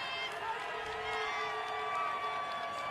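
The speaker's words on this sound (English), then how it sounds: "Crowd coming to life." A basketball crowd at a men's college game, Montana State vs Portland State, cheers and roars steadily at a moderate distance, a broad sustained swell of many voices with a commentator's voice faintly underneath.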